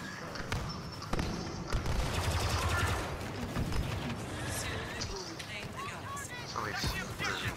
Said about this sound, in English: Somebody's shooting at me from somewhere.